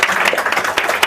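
Audience applause and clapping at a business coaching meeting, a dense steady patter of many hands lasting about a second at moderate loudness.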